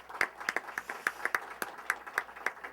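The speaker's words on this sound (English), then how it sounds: "Let's give a round of applause to our panelists." An audience claps in a steady scatter of individual hand claps at the close of a panel discussion, fairly faint and with no talking.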